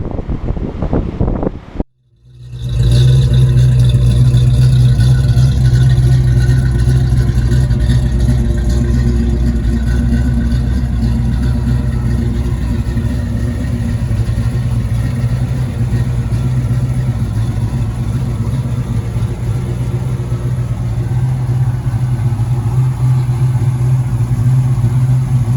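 A 1974 Trans Am's engine idles just outside the garage, a constant deep rumble with faint wind buffeting. It cuts in after a brief gap near the start, then holds steady and loud.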